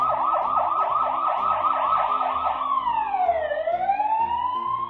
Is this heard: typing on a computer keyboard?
no